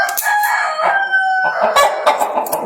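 A live hen, bought for 1000 dinars, clucks and squawks loudly and close up in a rapid agitated series of calls with no talking.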